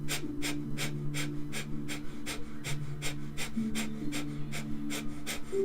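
Breath of Fire yoga breathing: about fourteen quick, forceful nasal exhalations fire in an even, steady rhythm, roughly two or three per second, close and clear, with a soft hum beneath.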